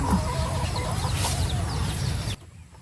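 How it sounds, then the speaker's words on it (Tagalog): Chickens cluck and chatter close by in a busy, continuous flock murmur that cuts off abruptly near the end. "Nakapagpakain ka na baga ng mga manok."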